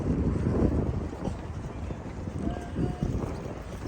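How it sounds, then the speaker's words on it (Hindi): Strong wind gusting by the Amsterdam canals, a steady broadband roar with rumbling buffeting on the microphone throughout, loud and continuous. "हवा बहुत तेज़ है भाई, बहुत तेज़ हवा लग रही है।"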